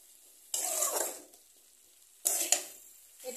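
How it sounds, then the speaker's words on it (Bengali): A spoon scrapes and stirs potato and pea curry in a pan after salt goes in: three short, close scraping strokes with quiet pauses between them. "তো এটা লবণ দিয়ে আমি এটা কিছুক্ষণ এটাকে নেড়ে নেব"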